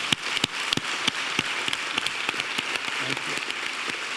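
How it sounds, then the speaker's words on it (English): An audience applauds continuously in a hall, a dense wash of many hands with a few louder claps standing out nearby, and no voices over it. "Let's give a big applause for her."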